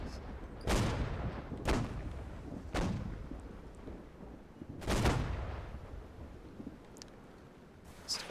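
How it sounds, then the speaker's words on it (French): Ship cannons firing at a gunboat in a naval video game, several heavy booming blasts spaced about a second apart, with a rumbling tail after each shot and no talk over them. "Les canons tirés sur le gunboat là."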